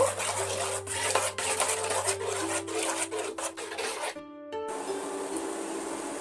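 Amul milk powder being mixed into milk by hand in a bowl, a steady close rasping and rubbing sound that runs throughout, with no talk.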